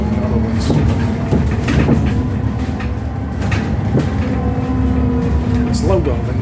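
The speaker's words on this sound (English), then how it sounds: "The Dundee ones are quieter, the motor's quieter, but this has got a louder driveline." Electric bus in Perth, Scotland, with a fairly loud driveline: a continuous low rumble carries steady whining tones and occasional rattles and clunks as it drives, heard from on board.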